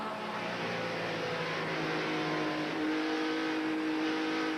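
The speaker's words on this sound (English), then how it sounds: "Mark Martin's view as they come down the front straightaway the next to last time" NASCAR Xfinity Series race cars from the 1990s roar down the front straightaway near the end of a race, a loud, continuous engine drone with rising pitch as the cars pass, no voices.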